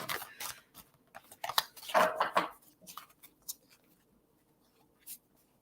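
Crisp, rapid riffling and shuffling of playing cards in quick bursts, close by, thinning out to a few soft taps.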